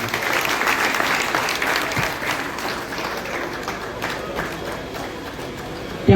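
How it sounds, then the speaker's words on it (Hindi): Sustained audience applause greeting Laxman Singh, a 1971 war veteran, at a Kargil Vijay Divas gathering in Pouni, steady and dense throughout with a brief sharp knock at the very end. "पूरा जोरदार तालियों से एक बार स्वागत कीजिए।"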